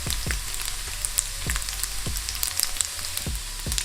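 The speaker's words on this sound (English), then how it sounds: "We're gonna let this cook until the fat is completely rendered and it's nice and crispy." Turkey or beef bacon frying in oil in a pan, a steady crackling sizzle with scattered sharp pops throughout, close and fairly loud, with no talking.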